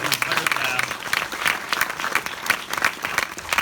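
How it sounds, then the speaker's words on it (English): A festival audience applauds actress Elsie Fisher after a film screening, loud, dense and sustained clapping filling the room with a few voices mixed in. "Let's give her a round of applause."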